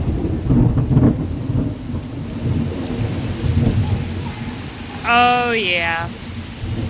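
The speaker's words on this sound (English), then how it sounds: "it's gonna be a good storm." A thunderstorm rumbles with low rolling thunder and steady rain, fairly loud and close, while someone speaks briefly near the end.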